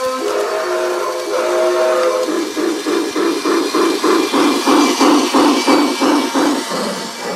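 A toy steam train on a small oval track sounds a steady whistle, then a rapid run of rhythmic puffing chuffs, loud and close, with no talking over it.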